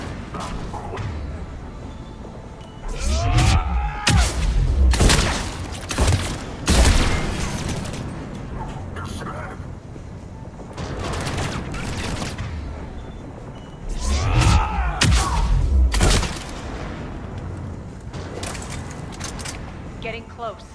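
Cannon fire during a Mass Effect game battle, heavy booming blasts and rapid volleys arriving in two bursts, with sci-fi whooshes and a player talking over much of the action.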